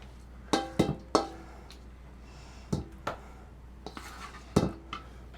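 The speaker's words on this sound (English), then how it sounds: "I want to scrape this out of there." A utensil scrapes and clinks against a bowl while scooping out hashbrown casserole, several short sharp knocks and scrapes spaced irregularly, close and fairly quiet with no talk.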